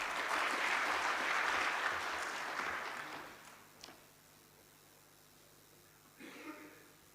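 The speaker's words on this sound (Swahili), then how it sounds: "Makofi mengi kwa Profesa." Applause for a professor at a Tanzanian government ceremony, a dense burst of audience clapping that tapers off after about three seconds, followed by near quiet and a brief faint flurry of claps.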